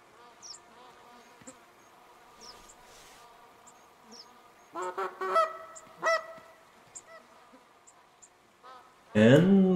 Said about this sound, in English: And we got some more geese breaking.